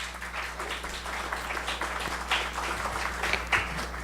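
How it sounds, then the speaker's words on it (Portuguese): A round of applause during a formal Presbyterian church solemn session, scattered hand clapping from the assembly with an audible mains hum beneath, moderately quiet and steady. "Uma salva de palmas"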